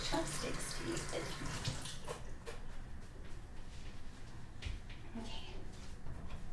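Running tap water splashes steadily while something is rinsed under it for chopstick use, a close, continuous wash with a soft voice speaking over part of it.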